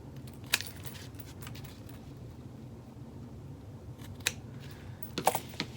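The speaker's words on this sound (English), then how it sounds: "I'm just going to trim a little bit of the zipper tabs" Scissors trim fabric zipper tabs on a satchel being sewn, a few sharp close snips spaced apart over a quiet room hum.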